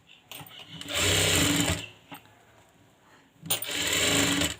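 A sewing machine stitches puff sleeves onto a blouse in two loud, steady whirring runs, separated by a quiet pause with a few faint clicks.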